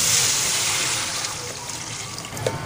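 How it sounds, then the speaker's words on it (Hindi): Two to three litres of water are poured into a cooking beef white karahi, giving a steady rushing splash that eases into a gentler trickle over a few seconds. "तो इस मौके पर अब हम इसमें करीब 2 से 3 लीटर पानी शामिल करते हैं।"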